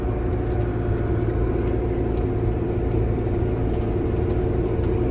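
A ZIL truck towing a trailer during a barley harvest, its engine a steady low rumble running throughout at a constant level, close by with no speech.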